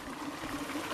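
A small stream of water runs across a walking path on a morning Thanksgiving walk, a soft continuous trickle heard close by and faint.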